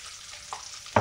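Crushed ginger dropped into hot oil, giving a short sizzle with a sharp burst of frying near the end, over a faint steady background hiss.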